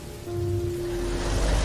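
Steady rain falling at night in a Bengali village horror cartoon, a continuous even hiss with a low rumble underneath and a faint sustained tone, no voices.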